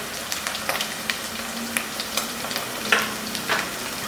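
Ground red chili and white cumin sizzle and fry in a pot for a chicken and chickpea curry, a steady close crackle with scattered stirring scrapes and small pops throughout.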